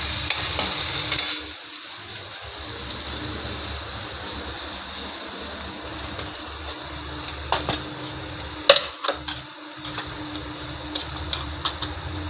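Red masala spice being stirred into onions frying in a pan while making bharit, a soft steady sizzle with scattered clinks and scrapes of a spoon against the pan, close by and with no talking.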